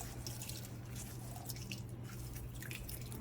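Water drips from squeezed chhena cheese in a few quiet, scattered drops over a low steady hum, close by and faint; no talking.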